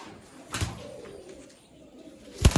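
A pair of Madrasi malwai pigeons, one white and one yellow, coo softly and close by, with two sharp bursts of handling or wing noise breaking in.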